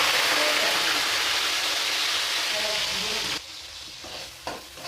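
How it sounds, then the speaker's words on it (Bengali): Mixed vegetables fry in hot oil and ghee in a pan for Bengali-style mixed fried rice, a loud, steady sizzle with stirring that drops off abruptly and is followed by quieter crackling and a brief clatter. "সবজি ভেজে নেব।"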